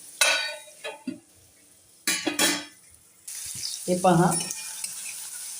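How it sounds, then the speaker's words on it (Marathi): Tomato and potato are stirred and sautéed in a pan for tomato-potato poha, with a soft sizzle, a few spoon scrapes and knocks, and a short spoken remark over the cooking. "आणि हे व्यवस्थित परतायचं।"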